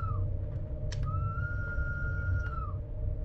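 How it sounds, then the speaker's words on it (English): Train whistle of an RhB Allegra railcar in a train simulator game on the Bernina line: a short chirp, then a long sustained steady tone lasting about two seconds, over a loud low rumble of the running train. "So yeah, this whistle,"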